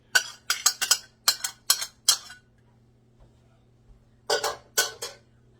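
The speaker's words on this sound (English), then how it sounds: "that's why I used my big frying pan" A large frying pan clatters and clanks in quick metallic bursts while cooking meatballs, several rapid hits, a short pause, then a few more, over a faint steady hum.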